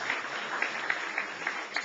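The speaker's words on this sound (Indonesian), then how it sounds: "Berikan tepuk tangan buat Tuhan" A church congregation claps together in a steady, even rhythm during a worship service, a moderately loud and continuous crowd of hands.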